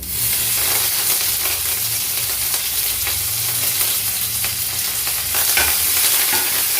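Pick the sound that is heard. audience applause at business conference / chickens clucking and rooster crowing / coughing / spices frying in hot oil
spices frying in hot oil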